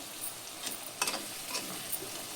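Chopped tomatoes and brinjal tipped into a hot frying pan with spiced oil for a brinjal prawn masala, giving a steady soft sizzle with a few brief scraping stirs, close and fairly quiet.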